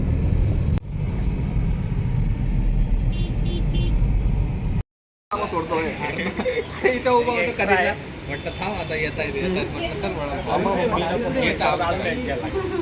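Cars pull away in traffic after a family visit to a Ganpati temple in Titwala. Steady engine hum and road noise sit under close, continuous conversation throughout.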